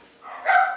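A single short bark from a dog at home, close and fairly loud, rising out of a quiet room and trailing off briefly.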